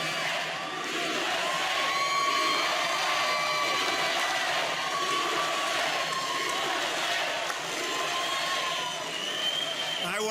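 A large crowd filing into a Donald Trump campaign rally in St. Clairsville, Ohio roars and cheers in a steady, dense wash that holds for the whole stretch, with scattered shouts and whistles rising above it.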